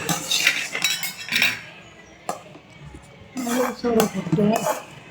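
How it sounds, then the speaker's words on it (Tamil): Rice in a pot is stirred with a metal spoon, making repeated scraping clanks and knocks against the pot in uneven bursts, close and fairly loud. "இந்த கிளறி விடணும், கிளறுனா தான் நல்லா இருக்கும்."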